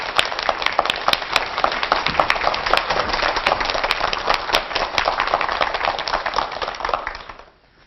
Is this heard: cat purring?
no